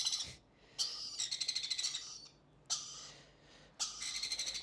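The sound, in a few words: pet lory and sun conure chicks calling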